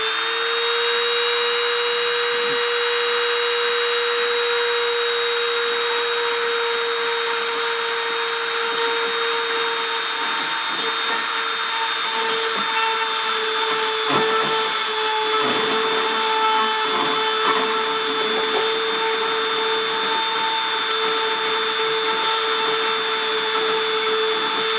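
A high-speed spindle spinning at 30,000 RPM during a deposition run gives a loud, steady tonal whine with strong harmonics, with faint intermittent scraping and ticks partway through and no voices.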